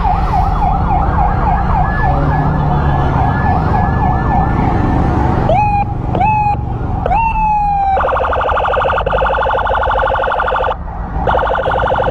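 A loud ambulance siren close by on an Indonesian road, first a fast wailing yelp, then short rising whoops and a steady high two-tone blare, all over heavy traffic noise.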